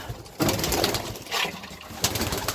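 Pigeons in a pigeon loft give a few soft, throaty coos in short bursts, fairly close, with light background rustle and no speech.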